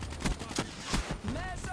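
Rapid automatic gunfire from the video game Black Ops 3 in a co-op match, a string of sharp, evenly spaced shots at moderate loudness, with faint game sounds between the bursts.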